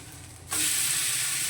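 An urad dal and amaranth-leaf uttapam lands in hot oil or ghee after being flipped, and a sudden bright sizzle starts halfway through and holds steady.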